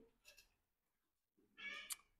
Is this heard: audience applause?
no